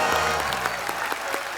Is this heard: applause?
yes